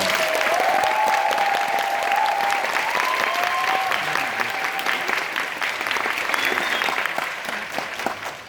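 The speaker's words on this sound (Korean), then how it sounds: "다시 한번 뜨거운 박수 부탁드립니다" Steady applause from a theatre audience at a musical curtain call fills the whole stretch, a dense wash of clapping that holds at the same level throughout.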